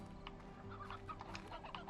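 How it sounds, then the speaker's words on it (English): Chickens in the video game Slime Rancher cluck softly in a steady stream of short, faint calls over a constant low background hum. "sounds like there's just some chickens hanging around over here"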